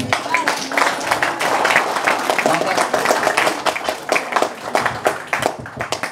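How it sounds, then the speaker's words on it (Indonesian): Audience of santri clapping during an Islamic sermon, a crowded patter of individual hand claps with distinct sharp strikes running on for several seconds, voices faintly mixed in. "Tepuk tangan."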